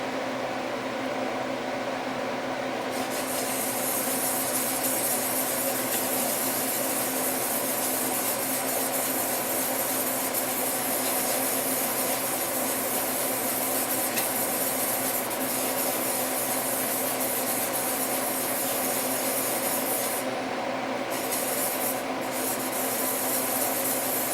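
A plane blade is sharpened on a 1200 grit stone, a steady continuous close-up rubbing hiss that runs with only brief breaks, without speech.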